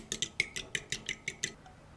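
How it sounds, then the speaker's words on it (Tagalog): Two eggs seasoned with salt and pepper being beaten in a bowl, a quick run of about nine sharp, evenly spaced clinks of utensil against the bowl, fairly close and clear, with no talk. "Then, magbati tayo ng dalawang itlog."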